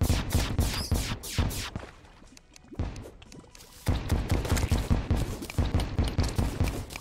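Rapid pistol fire in the video game Terraria, with quick strings of sharp repeated shots that pause briefly and then resume at a steady pace.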